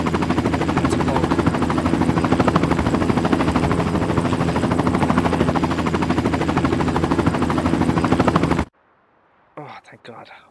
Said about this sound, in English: That's a bug anyways, that helicopter sound.